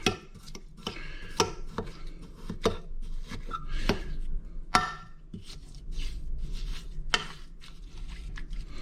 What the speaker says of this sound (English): if I stir it up with a fork, basically I get kind of a slushy mixture